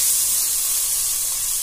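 Ginger garlic paste sizzles in a pan of fried onions for a prawn biryani, a steady, even hiss with no breaks that stays at a constant moderate level throughout.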